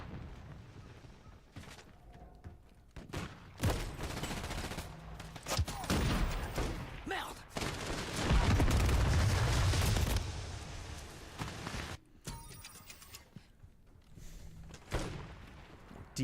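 Dense gunfire from a Call of Duty MW3 match, with bursts of rifle shots and heavy booming explosions, loud and close, building into a sustained barrage before tapering into scattered shots.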